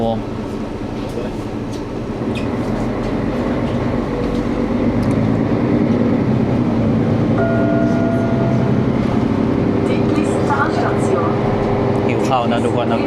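A Swiss mountain train climbing: a steady, loud rumble of wheels and motor that runs the whole way through, with a few brief tonal squeals near the end and people chatting over it.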